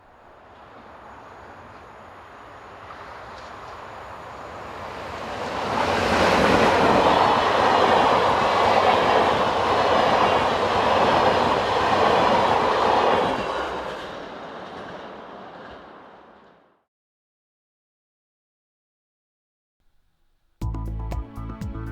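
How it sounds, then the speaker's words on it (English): A Class 28 electric locomotive hauling an international express train between Amsterdam and Brussels approaches and passes with a rising roar and rhythmic wheel clatter, then fades away to silence before an abrupt loud cut at the end. "one of the Class 28 electrics that have been loaned to the passenger sector in order to work international express trains between Amsterdam and Brussels"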